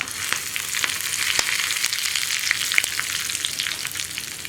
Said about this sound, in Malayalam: കടുകൊന്ന് പൊട്ടി തുടങ്ങുമ്പോൾ 1/4 ടീസ്പൂൺ പെരിഞ്ജീരകം, ഇത് നിർബന്ധമായിട്ടും ചേർക്കണം കേട്ടോ. അതുപോലെ തന്നെ 2 വറ്റൽമുളക്, 2 തണ്ട് കറിവേപ്പില.